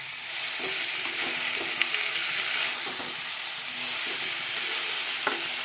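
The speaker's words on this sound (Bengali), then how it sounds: "সবজি মশলা দিয়েছি, একটু নাড়াচাড়া করে তারপর জল দিয়ে দেবো" Vegetables with spices fry in a pan for a potato and soybean aloo dum, a loud, steady sizzle punctuated by repeated scraping stirs of a spoon against the pan, with no talking.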